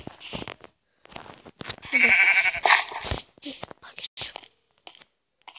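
A sheep in the Minecraft video game bleats, with a loud wavering cry near the middle among crunchy clicks and game sounds, heard close and clear.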